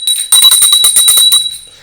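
A small hand bell rings close and bright, giving a rapid shimmering jangle for about a second and a half before dying away.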